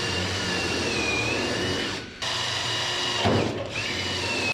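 A power drill bores a pilot hole in a car body, a steady high whine close up, briefly stopping midway, then resuming with a louder grinding burst as it bites through the metal.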